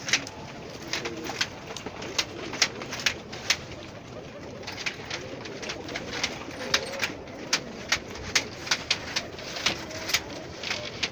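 Pigeons coo softly and continuously in a flock, low throaty murmurs layered under frequent small clicks and rustles of wings and feet nearby.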